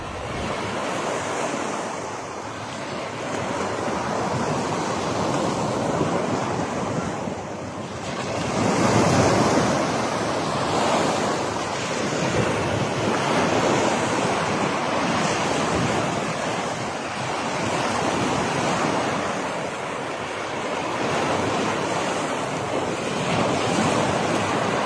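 Ocean waves break and wash ashore continuously at My An Beach in Danang, Vietnam, a loud, steady roar of surf with wind buffeting the microphone and swells rising around the middle.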